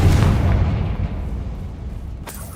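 A booming blast from the Confringo spell in Hogwarts Legacy, a loud low rumble that decays over a couple of seconds, followed by a sharp crack near the end.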